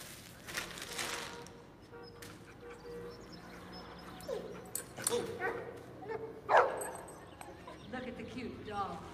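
A dog in a TV commercial, sitting with a man on a park bench, gives soft yips, whimpers and a few small barks under faint background voices.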